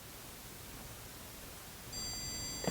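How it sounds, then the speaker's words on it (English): A handheld stud finder scanning a wall gives a steady hiss, then a sustained electronic beep sounds as it detects a wall stud. "when you find a stud, it'll start to beep"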